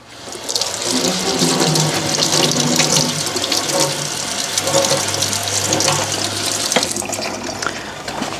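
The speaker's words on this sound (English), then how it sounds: "you need to just give them a good wash. So I'll do that under cold water." Cold tap water runs steadily into a sink as calamari and cuttlefish are rinsed, a continuous splashing hiss with slight shifts as the seafood is moved under the stream, close and fairly loud.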